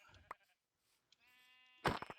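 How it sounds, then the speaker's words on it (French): A sheep in the Minecraft video game gives a drawn-out, wavering bleat, clear and fairly close, with a few game clicks and thumps before and after. "Allez, on va chercher les moutons."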